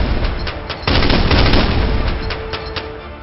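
Anti-aircraft guns open fire on a dive bomber as a game sound effect: loud, sustained rattling bursts of rapid gunfire with heavy booming thuds, swelling and then easing off.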